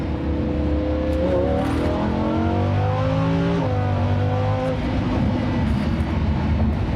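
A loud engine revs hard, its pitch climbing in stepped rises before dropping and building again, with a continuous roar throughout.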